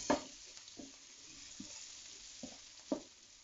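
Chorizo sizzles steadily in a hot pan while a utensil stirs it in about five separate scraping strokes, close and moderately quiet.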